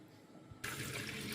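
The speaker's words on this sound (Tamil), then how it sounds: "இருங்க தண்ணி ஊற்றிடுறேன்" Water pours from a tap into homemade bajji batter: a quiet moment, then a sudden steady rush of running water that continues to the end.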